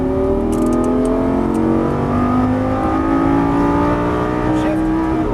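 A Lamborghini Gallardo LP550-2 accelerates hard on a racetrack, its engine note rising steadily and loud throughout, heard close from inside the car.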